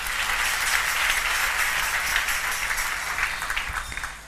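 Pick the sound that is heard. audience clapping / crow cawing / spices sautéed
audience clapping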